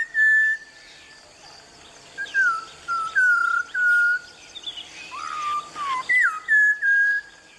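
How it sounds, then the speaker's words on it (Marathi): A Malabar whistling thrush sings in Western Ghats evergreen forest along the Tilari river, giving clear, loud, slurred whistled phrases in short bursts separated by brief pauses over a quiet forest background. "त्याचं नाव आहे मलबार व्हिसलिंग थ्रश, म्हणजेच मलबारी शिळकरी कस्तूर"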